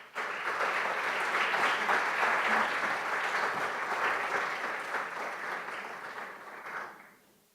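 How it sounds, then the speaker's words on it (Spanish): A lecture audience gives the speaker sustained, dense applause that holds steady for several seconds, then fades and stops near the end. "Pido un fuerte aplauso para él."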